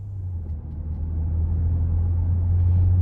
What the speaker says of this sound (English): take this Pathfinder SL out on the road for a quick test drive